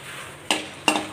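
Dry red chilies drop into a hot pan with roasting lentils for curry leaf powder, two quick close scraping stirs over a faint sizzle.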